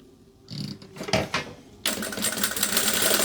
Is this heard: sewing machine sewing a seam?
yes